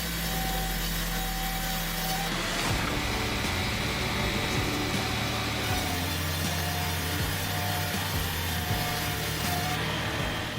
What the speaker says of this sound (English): the Vance grinder takes just minutes to reduce substantial logs into manageable pieces